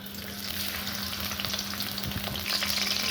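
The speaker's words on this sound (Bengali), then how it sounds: "মাছগুলো একটু ভাজা ভাজা হবে" Fish frying in plenty of oil in a kadai before vegetables are added: a steady, close, crackling sizzle throughout, with no talk.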